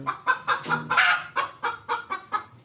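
A hen clucks repeatedly while searching for a spot to lay eggs, giving a steady series of about nine close, rhythmic clucks with a slightly louder burst midway, with no talking.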